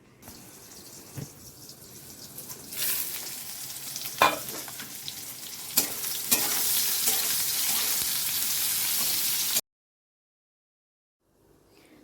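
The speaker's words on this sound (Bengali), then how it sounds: "এখানে উচ্ছে ভাজা করছি নুন হলুদ ছাড়াই" Bitter gourd fries without salt or turmeric, a faint sizzle that swells into a loud, steady hiss with stirring knocks, then cuts off abruptly into silence near the end.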